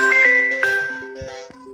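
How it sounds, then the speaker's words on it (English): A phone rings out during a 2025 election discussion, a short bright tinkling ringtone melody of repeated chiming tones. "Somebody phone ringing?"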